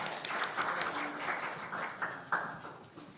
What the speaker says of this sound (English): Applause to our volunteers.